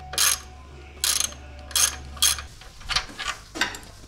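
A ratchet wrench turning a bolt on a timing chain cover during a supercharger install clicks in several separate bursts of quick ratcheting, close up, with a steady low hum beneath the first half.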